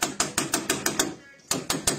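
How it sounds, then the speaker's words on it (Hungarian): Rapid hammer blows striking a piece of construction work, about ten sharp evenly spaced hits with a brief pause in the middle, close and loud. "Zuháljuk meg. Kalapács."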